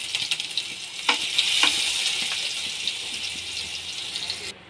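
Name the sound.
mustard seeds and chili paste sizzling in hot oil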